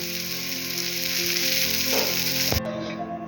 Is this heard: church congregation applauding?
no